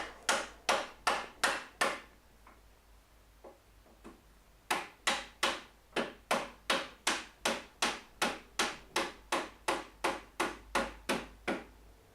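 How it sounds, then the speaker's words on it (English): A wooden sliding dovetail being hammered home into its slot, sharp loud blows in two quick runs of evenly spaced strikes separated by a short pause with a few faint taps, close and alone. "now I hammer it in place."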